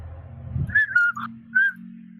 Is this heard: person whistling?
yes